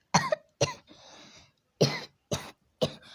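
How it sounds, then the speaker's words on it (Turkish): A person coughs several times in sharp, close bursts, with a longer raspy cough in the middle and short pauses between them. "Affedersiniz öksürdüğüm için."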